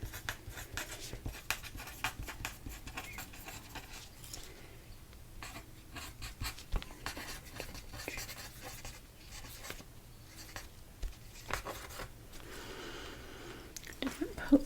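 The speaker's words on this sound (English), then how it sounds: "Let me write that before I forget." Pen or pencil writing by hand on paper, a soft continuous scratching with small strokes and taps, close and quiet throughout.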